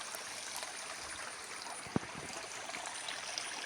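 Small mountain springs trickle down a steep hillside path in a steady, faint, continuous flow, with one brief knock partway through.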